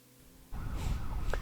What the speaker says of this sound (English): Now we actually have another siren going off now.